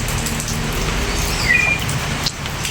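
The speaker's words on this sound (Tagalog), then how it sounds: "pag ganitong nag-uulan" Steady rain patters on surfaces in a constant hiss, with a faint bird chirp briefly heard midway.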